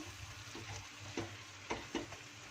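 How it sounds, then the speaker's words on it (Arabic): Chicken with spices such as paprika, coriander, cumin, cinnamon and curry sizzles softly in a single pot while being stirred, a low steady fry broken by a few distinct scraping stirs near the end. "بقلبها ايه، بس انا عايزه ريحه ايه التوابل بتاعتي دي تتحمص مع الفراخ كده"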